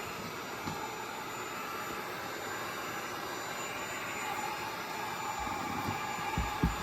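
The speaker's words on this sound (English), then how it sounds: "Always wear gloves too, because the heat gun's hot and this leather will start melting." A heat gun warms leather boots ahead of beeswax waterproofing, giving a steady, fairly quiet airy hum that holds constant throughout with a few small handling knocks near the end.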